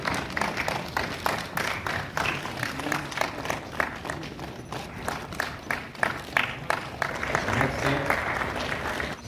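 Audience applause at an ITBP 5th Battalion recruitment fair in Choklamsar, Leh, steady crowd clapping with some voices mixed in, swelling toward the end.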